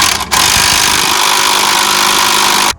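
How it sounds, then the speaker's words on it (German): An electric impact wrench is run against a ball joint bolt on the front axle of a Mercedes W124, giving a loud, steady mechanical whir with a brief stutter near the start, then cutting off abruptly. "Jetzt kann die Schraube vom Traggelenk gelöst werden, und zwar mit dem Schlagschrauber."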